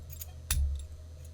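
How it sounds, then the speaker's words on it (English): A key turning in an Olympus 720LM-DM-26D lock cylinder gives a single sharp metallic click midway through, close and crisp, with a brief jingle of keys before it and a low steady hum underneath. "I've turned the key 180 degrees."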